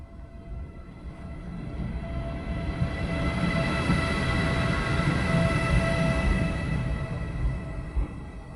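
A freight train rolls past on the rails, building from a low rumble to a steady loud roar of wagons with a faint sustained tonal whine, then easing slightly toward the end.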